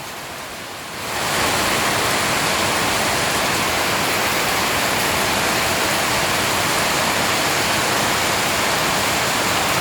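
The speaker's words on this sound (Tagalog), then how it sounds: "biglang bumuhos ang ulan" Heavy rain suddenly starts pouring in Daet, Philippines, jumping within a second into a loud, dense, steady roar that continues without letup.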